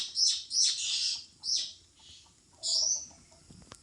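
A caged mynah gives a string of bright, shrill chirps and whistles close by, in several quick bursts with short pauses between them.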